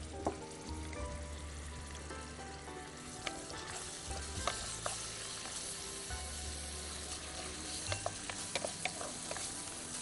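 Chopped onion with ginger paste and garlic paste sizzles in a pan for chicken pasta, a steady close frying hiss broken by scattered clicks and scrapes of stirring, with no talking.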